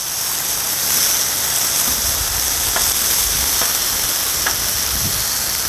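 Hot Italian sausage sizzling on a Blackstone griddle, a steady bright hiss of frying fat with a few faint pops and clinks, close and continuous with no talk.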